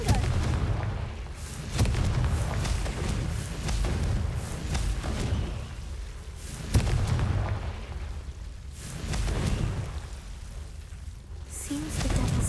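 A Confringo blasting curse explodes in the Hogwarts Legacy video game, with low booming blasts recurring at intervals over a steady rumbling, crackling background.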